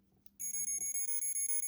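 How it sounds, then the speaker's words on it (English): Electronic toy beeping from an SD Turn A Gundam gadget, a rapid string of high, shrill pulses in even rhythm after a short quiet start, close and alone. "it lights up and makes weird beeping sounds and stuff like that"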